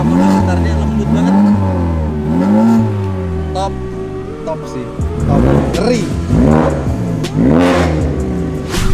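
A 2019 Mazda 3 hatchback with a valvetronic exhaust revs repeatedly, each rise and fall of engine pitch loud and close, while people talk over it.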